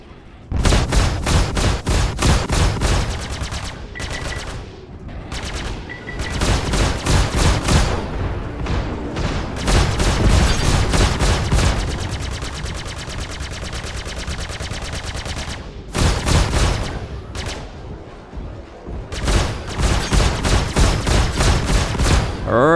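Spaceship cannons firing in the space-combat game Star Citizen, loud rapid automatic bursts in long rattling volleys with brief pauses between them, no talking.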